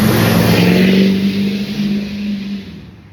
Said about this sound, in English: That truck in the background, ain't no reason for them to be driving like that.